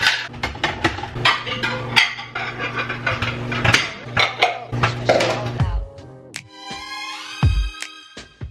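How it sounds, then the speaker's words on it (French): Clean dishes come out of a dishwasher during holiday housework, with repeated sharp clinks and clatters of plates and cutlery close by in quick irregular bursts and a few ringing knocks near the end. "Je vais pendant ce temps-là vider le lave-vaisselle qui est propre pendant que ça cuit."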